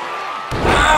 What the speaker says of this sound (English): Big flying elbow drop